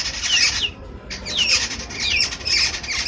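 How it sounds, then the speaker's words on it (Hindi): Bulbul birds squawk loudly and close by in a backyard aviary, harsh repeated calls in bursts with a brief pause, mixed with wing flutters and no talking. "ये बुलबुल है शायद, हाँ बुलबुल है, मेरे ख्याल से बुलबुल है।"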